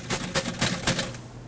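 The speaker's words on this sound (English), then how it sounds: "We've got a typewriter." Typewriter keys struck in quick irregular bursts on a display machine in a shop, a handful of sharp clacks close by with quiet between, no talking.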